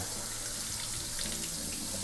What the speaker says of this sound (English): We're gonna take this bag of filter element and run it under water until the water runs clean.